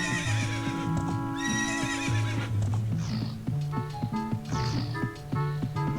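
Horses in The Legend of Zelda: Ocarina of Time neigh and whinny repeatedly over hoof clip-clops and game music, close and clear, with no talk.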